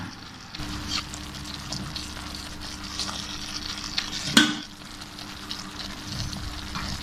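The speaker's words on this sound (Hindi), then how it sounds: "बस इसी तरह चम्मच चलाते रहेंगे 1-2 मिनट।" A spoon stirs apricot chutney seasoned with black pepper and citric acid in a pan over raised heat. A steady soft sizzle runs throughout, broken by one sharp scrape of the spoon partway through.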